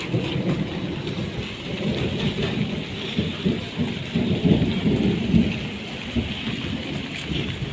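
Heavy rain pouring down steadily with rolling thunder, a dense, loud wash of drops striking surfaces nearby throughout, with no talk.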